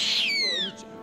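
An owl at an owl café gives a single loud, close call, a bright descending whistled note of about a second.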